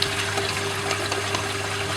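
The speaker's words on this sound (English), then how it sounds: "Look at the amount of micro bubbles coming out of that skimmer getting into this stage" An aquarium protein skimmer pumps out a stream of micro bubbles, a steady close rushing of water with a constant mechanical pump hum underneath, loud and continuous with no talking.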